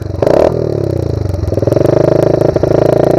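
Pro Tork TR100F mini motorcycle, a small clutchless single engine, running close and loud with a pulsing idle that rises in pitch as it revs, then settles into a steady chugging beat.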